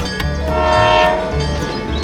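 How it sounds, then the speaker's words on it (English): A toy train sounds a loud sustained tonal horn up close while rolling along a miniature track past a signal and barrier, the horn swelling in the middle, with no talking. "The train continues its journey."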